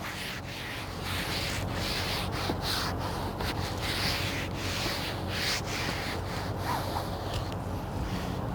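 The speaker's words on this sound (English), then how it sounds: "you take your flat palm and you rub it down really good" A flat palm rubs new fabric onto a car headliner, making a continuous close, soft swishing friction sound in repeated strokes with brief pauses between passes.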